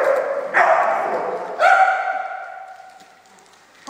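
Dogs at a dog daycare bark in two loud, close bursts, the second one trailing into a fading yelp and whine, with no talking over them.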